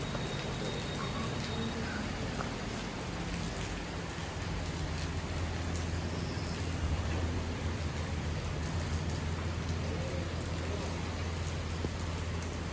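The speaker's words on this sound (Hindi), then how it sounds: "ये देखो बारिश इतनी हो रही है भयंकर" Heavy rain pours down in a dense, steady hiss that stays even throughout, with no distinct thunderclap standing out.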